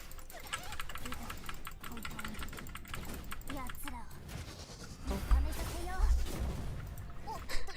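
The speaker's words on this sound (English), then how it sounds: "The keyboard is probably so loud." Rapid computer keyboard typing clatters steadily in the background while a voice talks over it, with game sounds mixed in and a few heavier thumps near the end.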